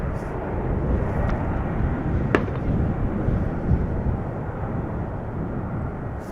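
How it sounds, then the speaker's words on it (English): Steady broadband rumble at an airport with a sharp crack partway through and a softer pop later, bird-scaring fireworks bangs heard at a distance. "Some belated fireworks to celebrate the new year,"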